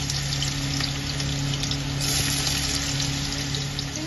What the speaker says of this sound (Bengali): গরম হয়ে গেছে, দুটো আলু ছোট ছোট করে কেটে রেখেছিলাম, আলুটা দিয়ে দেবো।